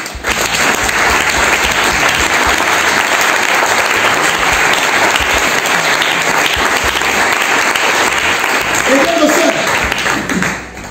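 A church congregation applauds loudly and continuously, dense clapping filling the room for several seconds before tapering off at the end.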